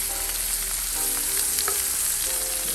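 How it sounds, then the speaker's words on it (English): Onions sautéing on a hot griddle beside butter burgers, a dense continuous frying sizzle with faint crackles and a low hum behind it, close and steady, no talk. "I'm gonna put some onion on here, saute some onion like this"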